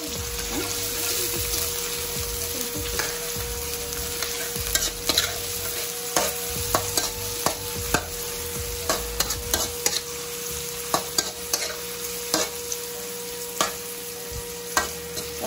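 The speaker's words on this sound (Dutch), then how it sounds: "Dan gaan we even bakken." Onions and garlic fry and get stirred in a pan for bami with chicken, a continuous close sizzle with repeated scraping and stirring clicks throughout and no talk.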